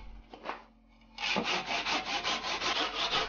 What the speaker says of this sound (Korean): 끼운 나무를 다시 잘라냅니다.